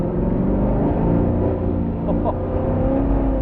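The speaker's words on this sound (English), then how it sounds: "This thing spins tires like crazy." A 600hp street-legal Ultra4 Diamond T truck with a '40s shell launches from a standstill, its engine roaring loud and steady as the 40-inch tires spin, with a short exclamation from someone aboard.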